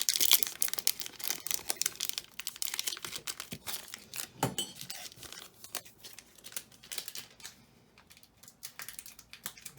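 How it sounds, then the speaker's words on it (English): A 1990-91 Skybox basketball card pack wrapper being crinkled and torn at, close and crisp, with repeated bursts of foil crackling and tearing that come in uneven clusters and slowly thin out. "Some of these packs just don't want to open"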